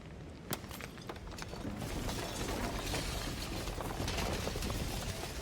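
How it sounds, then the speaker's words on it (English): A dense, crunching shatter of breaking material bursts out and keeps crumbling and rattling steadily, loud and close, with no voices. "And then the shattering."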